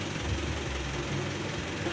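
A 1977 Toyota KE35 vintage car, fitted with a silver-top engine, runs at a steady idle with a low, even rumble close by and no talking.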